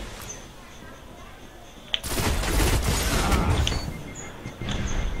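Rifle gunfire in the shooter game Destiny during a Crucible match. A sharp shot is followed by a dense burst of rapid fire lasting a couple of seconds, then quieter mechanical clicks and another burst, all loud and close.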